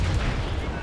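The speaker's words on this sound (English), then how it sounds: "Let's see if I can hit him with my bow chasers." Bow chaser cannons firing from a sailing warship in the naval video game Naval Action: a dense, low booming roar of cannon fire filling the short moment, loud and rumbling.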